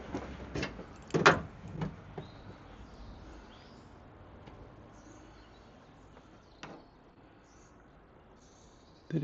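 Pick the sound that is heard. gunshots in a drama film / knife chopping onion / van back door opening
van back door opening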